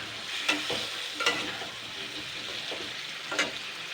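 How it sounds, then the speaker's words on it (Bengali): Pointed gourd and whole potatoes frying in a pan, a steady close sizzle broken by a few sharp stirring scrapes, with no voices. "এটাকে আমি আবারও 2-3 মিনিট ফ্রাই করে নেব।"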